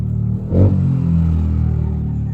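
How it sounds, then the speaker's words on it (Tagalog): A motorcycle engine with an exhaust pipe rumbles at close range, a brief rev swelling then settling back to a steady low drone, heard alone without talk. "dako kay tingog ilang motor anak"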